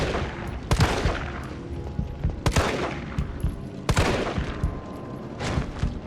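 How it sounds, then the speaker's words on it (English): Gunshots ring out in the survival horror game Resident Evil 3 as enemies are fired on, four loud, spaced blasts with ringing tails at roughly one-and-a-half-second intervals, alone without talk. "I think I'm just gonna have to shoot through them all"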